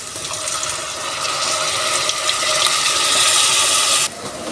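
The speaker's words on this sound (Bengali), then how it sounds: "পেঁয়াজ সিদ্ধ করার জন্য আমি পানি দিচ্ছি।" Water poured into a pan of frying onions for a sour fish curry with ginger and jamir lime, giving a steady, close hiss and sizzle that carries on alone for several seconds before the sound drops off suddenly near the end.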